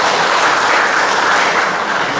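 Dense, loud applause from a village government audience at the opening of a Siskeudes technical training in Sidoharjo, a steady wash of many hands clapping together with no break.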